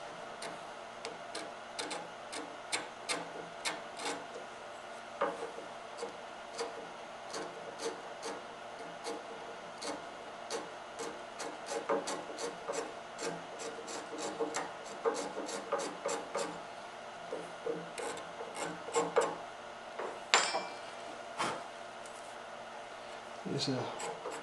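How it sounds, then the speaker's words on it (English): A hand scraper cleans up a carved wooden ball and claw foot, working into the corners and around the talon, giving soft repeated scraping and ticking strokes close by with faint background noise. "these scrapers are really quite a godsend. You can run them in at different angles to get in the corners."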